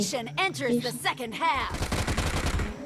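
Rapid automatic gunfire from an arena shooting video game, a dense burst of loud repeated shots filling the second half, preceded by other game sounds with a voice faintly in the mix.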